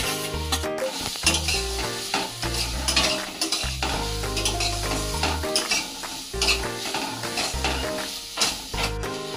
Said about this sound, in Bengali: এর সাথে কর্নগুলো অ্যাড করে দিচ্ছি, সব একসাথে ভাজবো